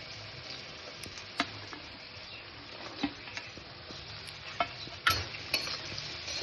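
Onion, carrot and chopped beans frying in a wok, a steady close sizzle broken by scattered clicks and stirring scrapes, with no voices.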